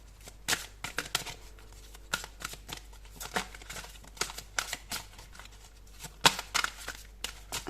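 Oracle cards are drawn and shuffled from a deck at a reading, giving a series of crisp, close papery flicks and slides in irregular bursts over a faint steady hum.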